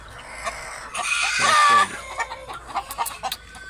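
A real hen on a farm clucks close by in a short series of sharp calls, with one louder drawn-out squawk in the middle and quieter clucks around it.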